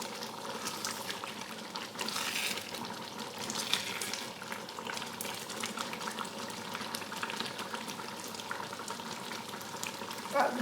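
Marmalade bubbling steadily in a pan on the stove, a continuous close simmering hiss with soft stirring scrapes and no talking.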